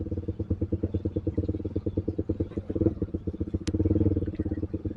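Motorcycles idling and creeping in a kilometre-long traffic jam on a thick, muddy road at a landslide site, engines chugging steadily and rhythmically up close, with a brief sharp click partway through.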